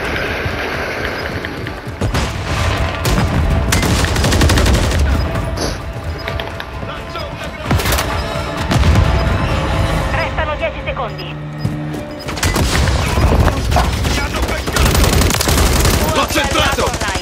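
Sustained automatic gunfire and bursts in Call of Duty Modern Warfare III at an airport, loud and dense with brief lulls, mixed with game voice chatter and clatter.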